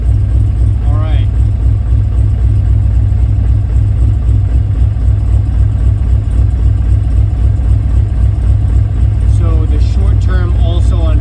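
A swapped 6.0-litre V8 idles steadily in a Mazda FD RX7, a loud, constant low rumble close to the microphone, with someone talking over it near the start and again toward the end.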